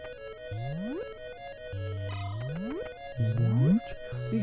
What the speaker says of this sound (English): These door noises are real strange.